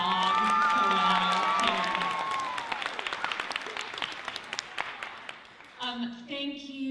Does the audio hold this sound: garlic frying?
no